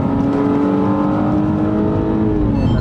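A BMW wagon on new Cooper tires accelerates hard, its engine note climbing steadily in a loud, continuous drone that rises in pitch, heard from inside or close to the car with no talk.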